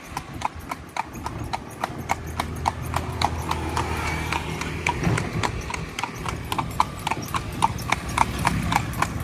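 A horse trots quickly in Bukit Tinggi, West Sumatra, its hooves beating a steady, rapid clip-clop on hard ground, close and clear for the whole stretch, with faint voices in the background.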